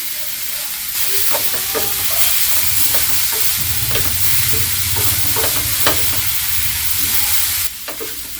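Chopped vegetables seasoned with oregano, chili flakes and salt sizzle steadily in a pan for a vegetarian lasagna, with repeated scraping stirs of a spatula over the constant frying hiss, close and fairly loud throughout.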